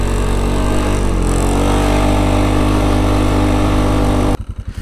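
A Polaris Sportsman ATV engine drones loud and steady close up while driving, then drops near the end to a lower, throbbing pulse.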